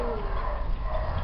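A dog growls low and continuous at close range, a rumbling throaty sound held steadily for the whole moment with no speech over it.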